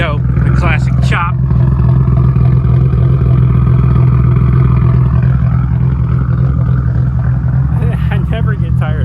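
A Nissan R32 Skyline GT-R with HKS parts idles with a lumpy, choppy rhythm, loud and close, with a few revs at the start and someone talking over the engine.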